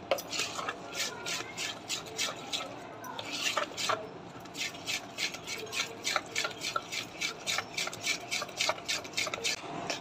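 Semolina (rava) batter with yogurt being mixed with water in a bowl, with a rhythmic series of spoon scrapes and knocks against the vessel and quieter gaps between strokes.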